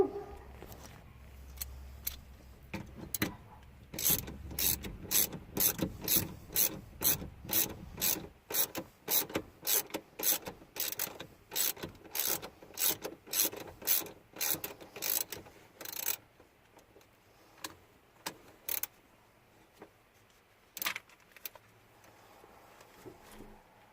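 Rapid ratchet clicking from a hand wrench driving a bolt back in under the steering column of a 2002–2008 third-generation Dodge Ram 1500, a close, steady run of sharp clicks that thins to scattered strokes near the end.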